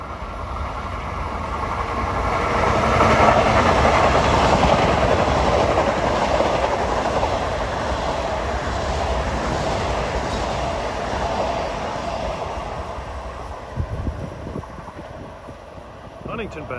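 An eastbound Long Island Rail Road train on track 2 near Jamaica and Hollis rolls past steadily and loudly, its wheels rumbling and clacking for the whole stretch before easing slightly near the end.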